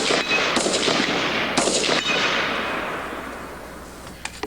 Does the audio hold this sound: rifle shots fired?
yes